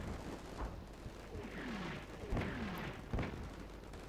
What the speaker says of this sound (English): Can we drop a mortar on them maybe?